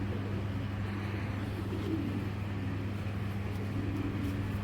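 Pigeons, including racing birds, cooing low and steady in a loft, a continuous soft murmur against a constant background hum with no talking.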